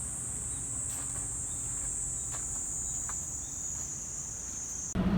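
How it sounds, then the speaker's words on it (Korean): A steady high-pitched drone of cicadas buzzes continuously outdoors in Busan, fairly faint and unbroken, cutting off abruptly into a louder thump at the end. "헐 매미 소리"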